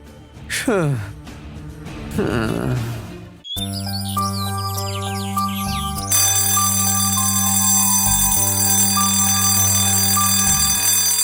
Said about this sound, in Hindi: कम से कम अलार्म तो बंद कर दे